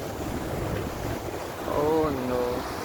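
Big, rough sea waves break along the shore at Negril, Jamaica, a steady churning roar buffeted by wind on the microphone, with a voice talking over it near the end.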